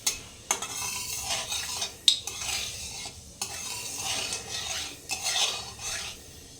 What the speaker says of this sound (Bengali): কালো জিরা একটু ফোড়ন দিলাম